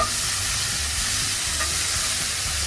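Tomatoes thrown into a hot pan beside pan-seared salmon, with a loud, continuous, even sizzle and hiss that holds for the whole stretch at close range.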